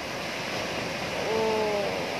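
Ocean waves wash and break on a shore in a steady broadband roar with no people talking, while faint tonal lines rise briefly in the middle.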